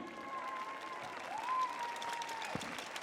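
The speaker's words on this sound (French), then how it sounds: "A huge round of applause as our jury members get seated" Audience applause at a world pastry championship as jury members take their seats, a steady dense wash of clapping from a large crowd, loud and continuous throughout with a faint tone running underneath.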